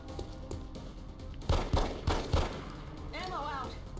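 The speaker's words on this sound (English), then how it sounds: "Let's shoot with the pistol first." Three sharp, loud pistol shots in XCOM Long War ring out in quick succession, each with a short decay, over low game ambience, followed by a brief voice.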